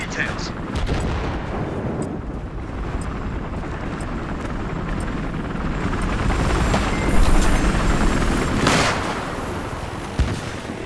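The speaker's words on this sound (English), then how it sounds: "Suspect's using a helicopter!" A helicopter's rotor thrums through a Battlefield Hardline Conquest match on the Riptide map, mixed with bursts of gunfire and sharp game-style effects, with a voice calling out briefly.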